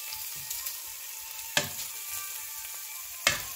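Minced meat (keema) fries in a pan with a soft, steady sizzle, punctuated by two sharp scraping clinks of a utensil against the pan, close and with no speech.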